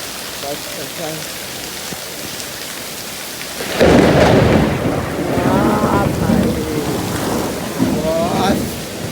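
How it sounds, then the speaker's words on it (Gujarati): Heavy downpour with a close thunder rumble, steady hissing rain throughout and a loud roll of thunder breaking in about four seconds in, swelling the storm noise for the rest. "એટલો વરસાદ પડે છે"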